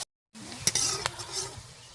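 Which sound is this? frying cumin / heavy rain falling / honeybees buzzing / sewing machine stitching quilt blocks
frying cumin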